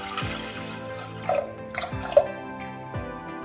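Water trickles and drips as 1.5 tumblers are poured over lentils for dal palak, a few soft pours and splashes close by with no talking.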